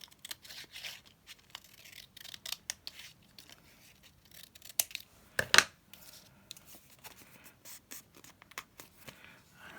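Paper is trimmed with scissors for a handmade Christmas craft card, giving quiet, close, intermittent snips and rustles, with one sharper cut standing out midway.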